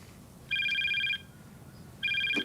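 A telephone rings in two electronic trilling bursts separated by a pause, clear and fairly close against quiet background noise.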